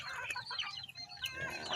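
Backyard chickens and hens with chicks clucking and chattering at feeding time, a busy continuous mix of overlapping clucks and peeps close by with no talk.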